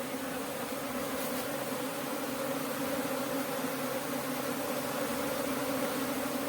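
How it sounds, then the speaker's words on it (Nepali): Honeybees in a swarm moving from one hive to another, a steady dense buzzing hum that stays loud and even throughout with no talk. "यसरी मौरी आइरहेछन् तलैदेखि यस्तो लहरा बनाएर।"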